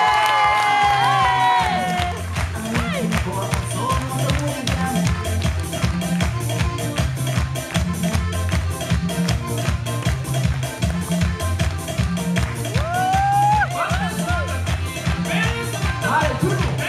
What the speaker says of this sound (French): C'est pourquoi on va pouvoir l'applaudir comme il se doit sous vos applaudissements.